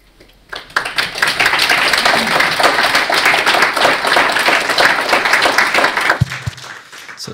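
An audience breaks into loud, dense applause after a short quiet start, clapping steadily for several seconds before dropping away abruptly near the end, leaving a few last claps.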